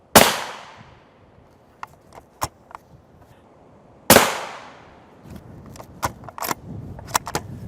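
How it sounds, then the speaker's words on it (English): Two loud, sharp rifle shots of M80A1 rounds from a 24-inch barrel fired at a Highcom 3S9M armor plate, each crack ringing out with a decaying echo, separated by smaller clicks and metallic handling noises. "we'll take a shot from the M80A1 and the B32"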